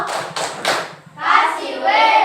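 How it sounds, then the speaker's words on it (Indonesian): Elementary school children in a classroom clap a rhythmic chant: three sharp group claps, then voices chanting together. "Kita kasih dulu tepuk wow."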